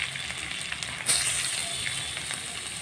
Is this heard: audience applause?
no